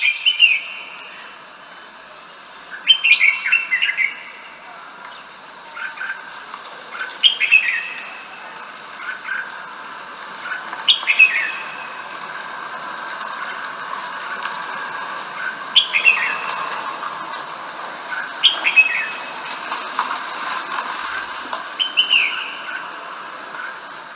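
Red-whiskered bulbul singing short bright whistled phrases, repeated about every four seconds over a steady hiss of rain, clear and moderately close, with no talking.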